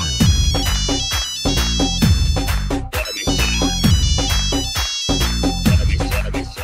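A phone ringtone plays a loud looping musical melody with a steady beat that repeats several times and carries on without pause.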